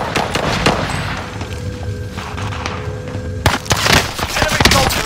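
Pistol shots and gunfire in a military shooter video game, a rapid string of loud, close sharp cracks and thuds, with dense bursts near the end over battle ambience.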